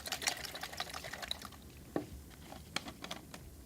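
Soapy water shaken inside a small medicament bottle: rapid, irregular sloshing and rattling with a few sharper knocks, close and fairly soft, with no talking.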